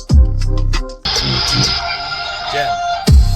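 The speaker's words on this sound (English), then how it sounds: "the biggest surprise inside this Cruiser is the Rockford Fosgate sound system" Music playing through a Rockford Fosgate sound system inside a Toyota Land Cruiser 79 with a 2.8 GD-6 engine, loud and full with deep bass punches at the start and end and a bright sustained middle section.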